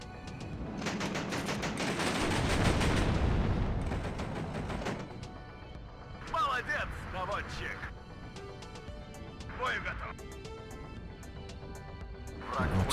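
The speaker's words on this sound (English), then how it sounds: "Artillery in there." Artillery fire in the WARNO real-time strategy game, a dense barrage of overlapping booms and blasts for about four seconds, then quieter scattered impacts under someone talking.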